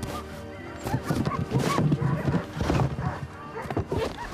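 Several sled dogs bark and yip in a busy, overlapping chorus, fairly close, with some background clatter and movement throughout.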